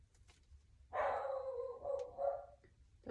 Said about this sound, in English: He likes to bark at nothing.